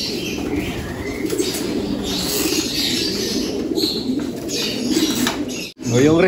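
Racing pigeons in a loft and aviary coo softly at close range amid rustling and flapping wings, ending with a sudden loud flutter, and a voice can be faintly heard at times.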